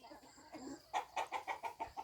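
A chicken clucks in a rhythmic string of short, close bursts at a rural Thai family home, following a quieter stretch of faint background noise; no one speaks.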